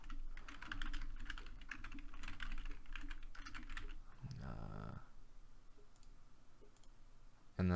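Rapid typing on a computer keyboard, close and steady, with a brief louder burst of a different noise midway and a sharp click at the end.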